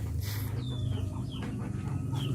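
Chicken held before slaughter early in the morning, giving several short squawks and clucks at close range over a steady low background hum.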